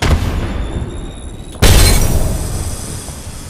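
An Arc Star grenade detonating in Apex Legends: a sharp, loud electric burst hits partway through after a quieter stretch of ambient game noise, then decays slowly.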